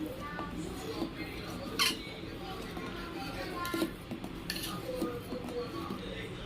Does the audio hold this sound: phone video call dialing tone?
no